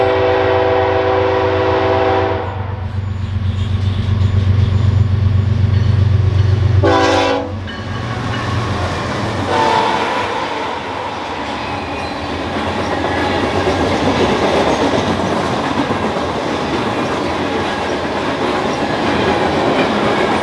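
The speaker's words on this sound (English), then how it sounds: "in time for this eastbound grain train" An eastbound BNSF grain train sounds its horn loudly at La Plata, Missouri, then rumbles past with a long, steady roar of rolling wheels and clanking cars that carries on without letup.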